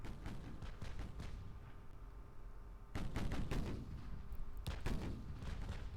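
Naval guns of a light cruiser fire in the game Ultimate Admiral: Dreadnoughts, several loud booming shots over a rumbling battle background, some spaced a second or two apart.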